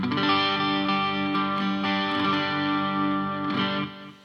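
Sustained, distorted electric guitar chords ring out through a Boss ME-90 multi-effects pedal with added reverb, thick and buzzy, played alone and fading at the end.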